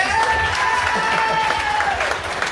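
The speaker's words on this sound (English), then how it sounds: "Give them a round of applause." Live-show audience at Piping Live 2022 clapping for the winning quiz team, a sustained crowd of applause with a steady tone from instruments or feedback ringing through it and a voice faintly underneath.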